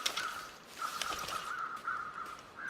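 Crows caw repeatedly in The Long Dark, a string of harsh calls that sound moderately distant over quiet ambient background, with no voices.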